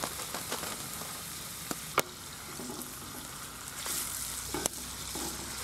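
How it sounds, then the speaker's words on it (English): Ground beef, stew meat, diced pork loin and ground chicken brown in a cast iron pot over an outdoor fire pit, giving a steady close sizzle and crackle broken by occasional sharp clinks of stirring. "I'll start browning the meat over on the fire pit."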